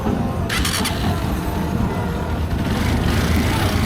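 A motorcycle engine runs steadily after starting, a continuous low rumble close by with a brief higher burst near the start, no talk over it.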